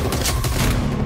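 Gunfire in an action movie trailer: a loud, dense burst of overlapping shots lasting about a second, with no talking.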